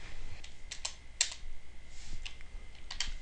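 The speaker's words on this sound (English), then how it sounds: "I do apologize for my typing" Computer keyboard typing during a C++ programming tutorial, a quiet run of irregular key clicks in small bursts with brief pauses, close and fairly soft.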